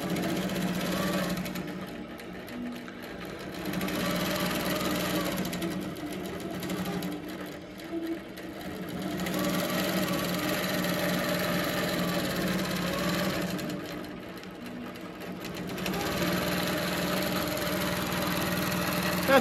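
Innova classic long arm quilting machine stitching out a holly crosshatch quilt pattern, a steady close mechanical whirr with rhythmic motor hum that dips briefly in a few short pauses.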